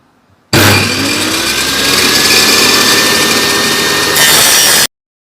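A power saw cuts wooden bottom bars for bee frames: a loud, sustained whining cut that starts abruptly, holds steady for about four seconds, then stops sharply, with no talk.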